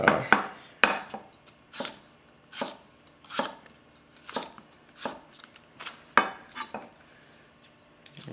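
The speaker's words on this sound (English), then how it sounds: "It's just this easy chopping all day long, you know." A Tetsuhiro handhammered White #1 240 mm gyuto chef's knife chops on a cutting board, giving a run of about a dozen crisp, close knocks at an uneven rhythm, with no talk.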